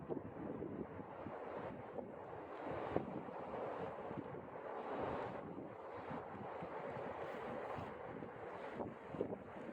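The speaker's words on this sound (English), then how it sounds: "But the wind's still really strong though." Strong wind blows across a mountain on the Appalachian Trail, a faint, steady roar with gusty buffeting against the microphone and no speech.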